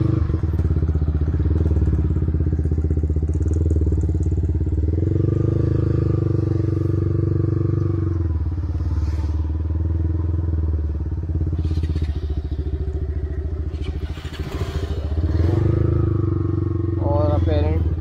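A motorcycle on a Sunday group ride fires up and keeps running loudly, a deep, throbbing engine rumble under continuous nearby talk.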